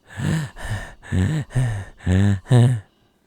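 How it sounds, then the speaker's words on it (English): Heavy, close breathing in the Meet Your Maker video game tutorial, six loud rhythmic breaths in quick succession, each a raspy inhale or exhale, then silence. "Could you stop breathing in my fucking ear, man?"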